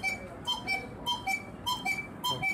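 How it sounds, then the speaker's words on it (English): Two wooden air bellows from a Black Forest cuckoo clock at the Drubba factory sound together, giving about five clear two-note cuckoo calls in a steady rhythm, close and moderately loud in a quiet room. "the cuckoo sound which we are getting from these two wooden air bellows"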